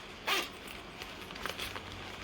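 A zipper on a sewn bag is pulled in a short, quick rasp, followed by fainter fabric rustles and handling at low volume in a quiet room.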